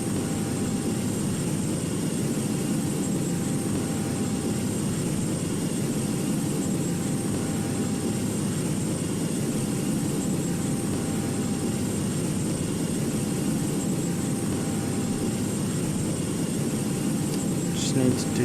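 Steady, loud broadband roar of airliner jet engines, an Airbus A330-900neo in Virgin livery, as takeoff begins in the GeoFS flight simulator, continuous and unvarying throughout.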